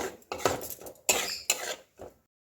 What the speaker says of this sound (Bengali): আরও দু তিন মিনিট ধরে মশলাটা ভালো করে কষে নেব